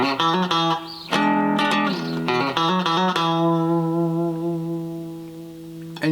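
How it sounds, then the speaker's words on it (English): A three-string cigar box guitar plays a double lick of repeated twanging notes, hit twice, with a few quick attacks before the last note rings and sustains alone. "You just hit it twice, so it sounds like this."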